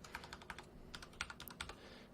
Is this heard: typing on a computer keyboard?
yes